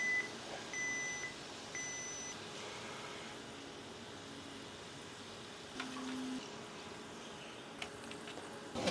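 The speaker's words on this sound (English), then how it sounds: "Timer went off." Kitchen timer beeping in a home kitchen while fries cook, short faint tonal beeps repeating early on, over a steady low background hum with scattered small clatters.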